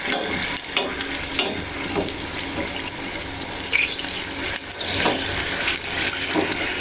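Sugar syrup boils and bubbles steadily in a pan for a potato halwa, a close, continuous bubbling hiss with small clinks and stirring noises, with no talking.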